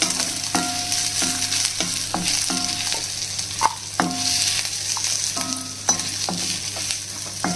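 Onions fry in oil with a constant sizzle broken by regular scraping stirs and clinks of a utensil against the pan, close and alone without speech.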